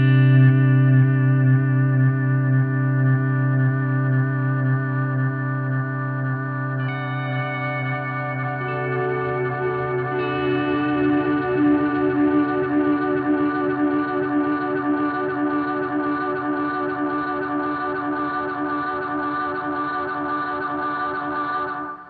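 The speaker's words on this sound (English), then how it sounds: "another pedal that's over here, which is really useful, is the Echo Park, and I use it for infinite delays." A guitar runs through an Echo Park delay pedal set for infinite repeats, building a sustained, layered drone of held tones that shift partway through and hold steady before cutting off at the end.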